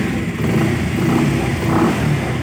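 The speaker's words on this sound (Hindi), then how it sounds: "उससे पहले आपको एक बार और फाइनल गाड़ी को स्टार्ट करके दिखाते हैं।" A Bajaj Pulsar 125 BS6 motorcycle with a rough, unsteady idle runs close by, its engine giving a steady low rumbling drone throughout.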